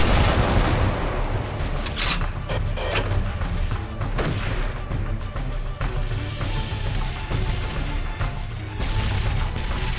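A rolling rocket artillery barrage pounds down in the Darkest of Days video game, loud repeated booms and crashing impacts in an unbroken rumbling sequence.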